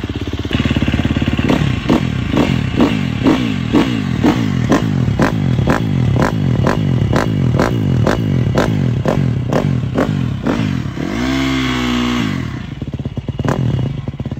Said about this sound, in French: je vais chauffer le moteur comme il faut